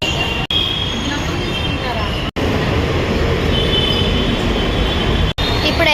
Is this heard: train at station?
yes